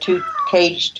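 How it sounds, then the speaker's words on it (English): A house cat meows in two drawn-out, rising calls, close and fairly loud, with a person speaking over and between them. "you can hear my cat meowing here"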